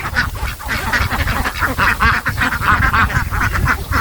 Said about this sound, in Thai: นี่คือเป็ดพันไข่